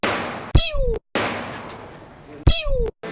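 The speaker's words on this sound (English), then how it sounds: "So I just shot a Kalashnikov" Kalashnikov rifle fired at the Cu Chi Tunnels shooting range: two loud, sharp, close single shots roughly two seconds apart, each with a brief ringing tail.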